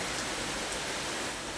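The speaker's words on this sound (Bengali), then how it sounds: "এখন সবে 3টে বাজে, কিন্তু বৃষ্টি দেখো, প্রচুর বৃষ্টি হচ্ছে" Heavy afternoon rain pours down in a steady, dense hiss, loud and unbroken throughout with no voices.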